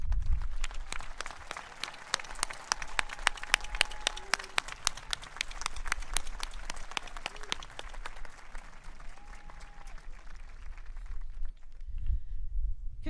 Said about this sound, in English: I would like all of the scholarship recipients to now stand for a round of applause